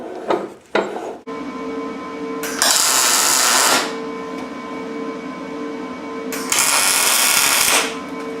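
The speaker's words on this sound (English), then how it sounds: "all I'm going to do is go ahead and tack this piece into place" A welder tacks a steel bracket onto a Jeep TJ crossmember: a few short clicks and bangs up close, then two loud buzzing weld bursts of about a second each, separated by a quieter hum.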